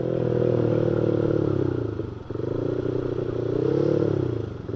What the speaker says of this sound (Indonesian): Ini aja baru gua gas dikit banget cuy, dikit, nggak ada 20 derajat lah